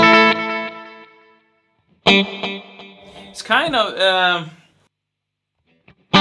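Electric guitar runs through a bright delay pedal on a One Control pedalboard. Picked notes and a bent phrase trail off into fading repeats, with brief pauses between them and a short bit of speech at the end.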